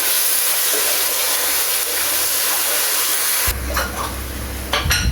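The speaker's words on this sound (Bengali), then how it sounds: "বাদামি হওয়া পর্যন্ত ভালো করে নাড়তে থাকুন।" Two cups of sliced onions sizzle and hiss steadily in hot oil while being stirred and fried until brown, a continuous near frying hiss with a few scraping stirs toward the end.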